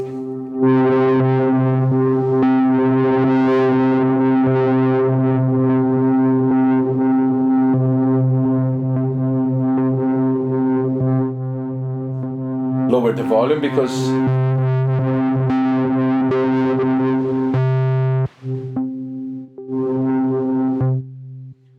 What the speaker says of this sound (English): when the reverb goes inside the distortion, things got pretty hot very fast